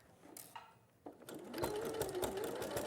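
A sewing machine stitches a quarter-inch seam with a backstitch, starting with a few short bursts and then settling into a steady, fast, close whirring run.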